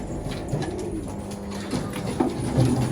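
Pigeons coo softly and repeatedly inside a dim loft where chicks are kept, with several low throaty calls overlapping close by against a steady background hum.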